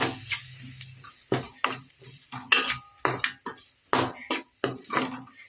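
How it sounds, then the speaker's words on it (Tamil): Masala being sautéed and stirred in a pan for goat lung gravy, with repeated sharp scraping strokes of a spoon against the pan over a light sizzle, close and fairly quiet. "ஸோ இது நல்லா வந்துட்டு வதக்கி எடுத்துக்கோங்க."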